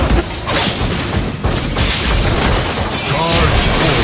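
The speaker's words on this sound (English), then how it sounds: "You destroy the turret." A turret blown apart in a game match, heard as a booming crash with shattering debris over dense, loud game effects and background noise that continue throughout.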